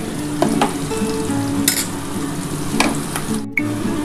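Goat meat and onion with chopped tomato sizzling in hot oil in a pan, a steady loud fry with a few sharp stirring scrapes and clinks, no voices.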